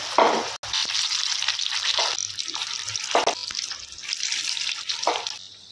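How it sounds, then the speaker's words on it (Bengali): Batter-dipped boiled cauliflower florets frying in hot oil, a steady close sizzle and crackle running throughout with a few louder bursts as pieces go into the pan. "এবারে বেটারে এইভাবে চুবিয়ে নিব। এভাবে তেল গরম হয়ে গেছে, তেলের মধ্যে ছেড়ে দেবো।"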